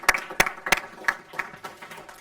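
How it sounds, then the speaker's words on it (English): A small group at a school board meeting gives a short, sparse round of applause, with a few distinct near claps at first that thin out into scattered, fading claps. "I'd like to give him a little round of applause."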